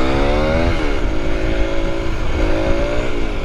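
A 125cc motorcycle engine during a coaster wheelie, heard as a close, loud buzzing drone whose pitch rises, dips with the clutch and gear change, then climbs again, with no talking.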